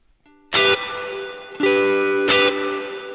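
Electric guitar played through a Zoom MS-50G or MS-70CDR+ multi-effects pedal with reverb: two strummed chords ring out and decay in a wash of sustained, effected tone.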